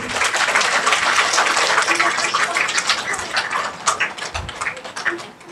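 Steady, loud applause from a gathered crowd during a gift presentation at a Rakhi event in Kolaghat, sustained throughout and gradually thinning toward the end.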